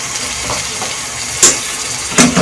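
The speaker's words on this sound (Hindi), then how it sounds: "इसे फ्राई करते हुए मुझे 5 मिनट हो गए।" Kachnar keema (minced meat with orchid tree buds) fries in a pan with a steady sizzle, and two brief louder scrapes of stirring are heard near the end.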